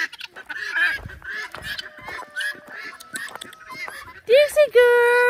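Guinea fowl call loudly on a farm, harsh repeated honking cries rising near the end over scattered squawks, with a person talking nearby among the livestock.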